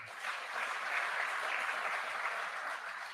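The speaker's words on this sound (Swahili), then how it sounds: "Tuwapigie makofi jameni." Steady crowd applause fills a large Nairobi hall at a Kenyan government digital services launch, dense clapping from many hands sustained evenly throughout with no talking over it.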